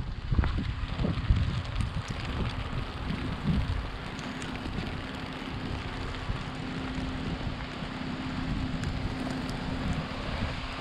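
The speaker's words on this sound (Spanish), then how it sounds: "Y vámonos, porque está lloviendo." Steady rain falling outdoors around a trash can and discarded household items, a continuous even hiss with some low rumble and wind buffeting at the start.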